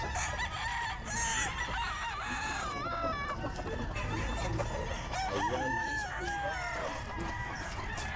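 Gamefowl roosters crow and cluck repeatedly among other birds at a busy outdoor pet market in Bocaue. The calls are loud and close and overlap one another, with steady crowd noise underneath.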